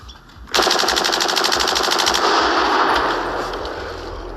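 A LEGO model of an M16A1 rifle imitating machine-gun fire: a sudden, loud, rapid stream of shots that holds steady for about two seconds and then trails off into a fading rattle, with no talking.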